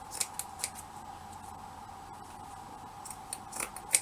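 Scissors snip through textured paper for a shabby vintage flower, giving a series of crisp, close cuts at an uneven pace over a quiet background.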